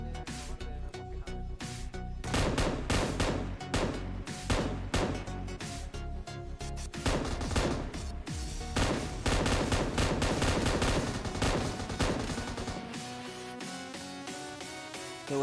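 Repeated gunfire from the battle royale game PUBG Mobile at a military base map area, sharp bursts of shots packed densely through the clip with steady loud intensity, no talking.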